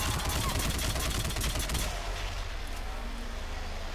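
Gunfire in the Mass Effect 3 video game during a missile battery defence, a dense rattling burst of rapid shots for about two seconds, then fading into a softer rumbling backdrop.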